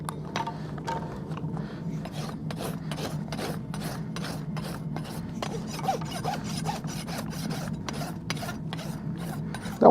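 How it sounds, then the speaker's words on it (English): A farrier dresses a horse's hoof wall with a rasp, giving a quick run of rhythmic, repeated scraping strokes, close and moderately loud, with no talk. "Just going to give him a little bit of a hoof dress"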